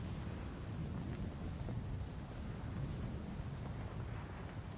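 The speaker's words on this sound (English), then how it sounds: "It's very windy." Steady wind roars and rushes through an outdoor scene in the video game Arc Raiders, a low, even, fairly quiet wash of noise with no talk.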